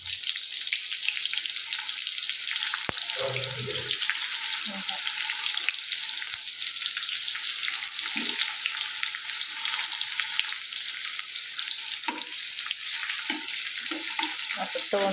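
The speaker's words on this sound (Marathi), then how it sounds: "आता थोडासा कांदा टाकते" Cumin and onion frying in hot oil on a home stove, a steady close sizzle running throughout with a few brief stirring and clatter sounds, no talking.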